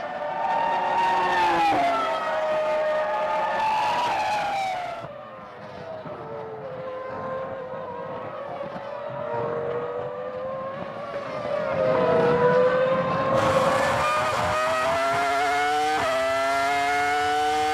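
Onboard with Michael Schumacher's Formula One car at the 2004 Brazilian Grand Prix at Interlagos, the engine screams loud and continuous, rising and falling in pitch through gear changes and throttle lifts with no talk.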